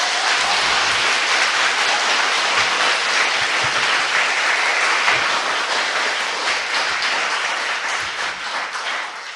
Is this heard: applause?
yes